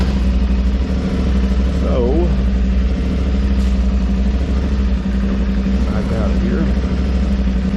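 An Aprilia Tuareg 660 motorcycle engine runs steadily at a low, even drone during a test ride with changed sprocket gearing, loud and close throughout, with someone talking over it.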